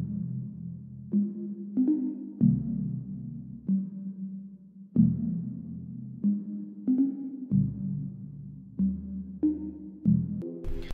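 Ambient bell melody programmed in FL Studio at 94 BPM, slowed with halftime, washed in reverb and with lows cut, playing as soft sustained tonal notes in a steady, unhurried pattern with no voices.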